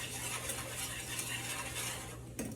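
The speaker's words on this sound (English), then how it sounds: "let me get all this so we can start whisking this" Gravy whisked in a pan for beef short ribs gives a continuous, brisk metallic rattle and scrape, ending with a single clink.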